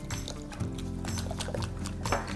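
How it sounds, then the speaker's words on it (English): Milk and eggs are poured in a slow stream and whisked into spelt flour for savoury crepe batter, giving soft liquid sloshing and light whisk clicks close by, with a faint low hum underneath. "using a whisk and pouring in a slow steady stream, just combine the milk and the eggs into the spelt flour."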